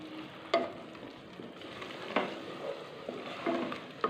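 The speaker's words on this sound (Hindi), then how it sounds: "इसको अच्छी तरह से हम फ्राई करेंगे" Crushed red chili and black pepper fry in a pan with a soft, steady sizzle, broken by a few sharp clicks and scrapes of stirring, heard close but fairly quiet.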